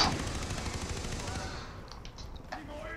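Gunfire in the Far Cry 3 video game, a dense loud burst at the start that thins out over three seconds into scattered shots and rumble, with no clear single sniper crack standing apart.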